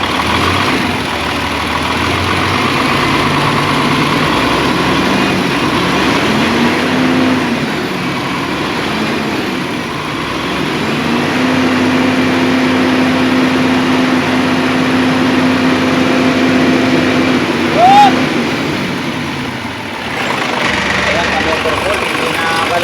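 An Isuzu 6WG1 diesel truck engine with a dirty EGR, smoking and low power, runs at a steady, rumbling idle close by for a long stretch, while people talk over it.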